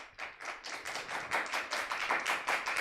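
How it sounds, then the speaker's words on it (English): Steady, rhythmic hand clapping, roughly a dozen soft, evenly spaced claps at a quiet level, with no voices. "Stop clapping."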